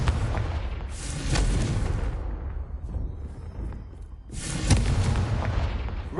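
Explosive spell blasts in a Hogwarts Legacy fight: two loud booming bursts with broad rumbling decay, the first early and a second sharper one near the end, separated by a quieter stretch of low rumble.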